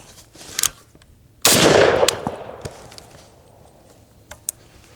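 An FAL rifle fires during a shooting drill, a single loud, sharp shot with a ringing tail that fades over a couple of seconds, set among faint clicks and shuffling.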